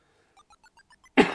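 A single sharp cough bursts out at the end, preceded by a short series of soft evenly spaced electronic beeps.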